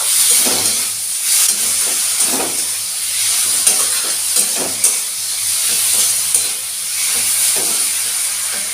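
Kashmiri red chili powder stirred into masala frying in a pan for a shrimp and cabbage dish, a steady hissing sizzle with soft scraping stir strokes repeating at an even pace, close and without talk.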